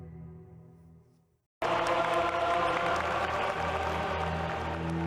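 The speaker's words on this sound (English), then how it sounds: "As soon as the banner was unveiled, St. Peter's Square broke out into applause." Sudden broad applause from a large crowd in St. Peter's Square at a beatification bursts in after a brief silence and carries on, dense and sustained, with faint cheering.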